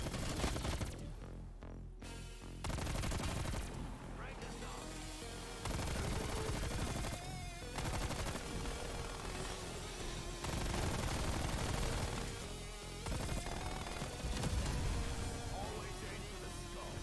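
Video game gunfire from a Steiner rifle in a zombies-style match, with bursts of shots firing repeatedly over a dense, loud game soundscape for most of the stretch.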